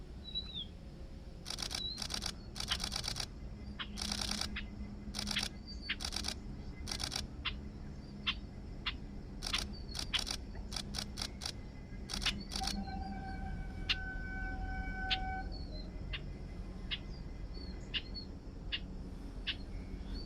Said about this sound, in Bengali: আমি ছবিটা তুলে নিই আগে